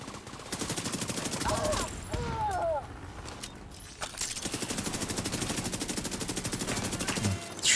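SMG fire in The Division video game, long sustained automatic bursts with a fast, even rattle, broken by a short pause and brief in-game effects before another extended burst.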